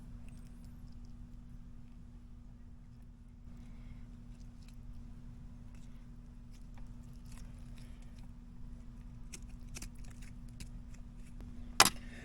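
A knife slices through deer meat behind the front shoulder, faint close cutting and scraping sounds with small wet squishes over a constant low hum, ending in a brief sharp click.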